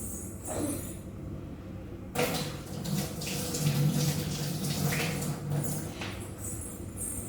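Tap water runs steadily into a sink while hands are washed before making pancakes, a close, continuous splashing stream that swells slightly midway, with brief faint handling noises and no talking.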